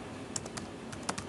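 A handful of quick, light keystrokes tap out a file name on a Macintosh computer keyboard, close and isolated, with short irregular gaps between clicks.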